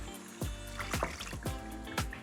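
About 200 ml of water is poured into a pan of prawn yellow curry with light soy sauce, a soft, close trickle with several gurgling glugs over a couple of seconds.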